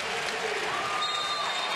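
Basketball arena crowd at a college game between Coastal Carolina and South Carolina cheering and applauding after an and-one play, a dense, steady roar of clapping and shouting with a few whistles, loud throughout.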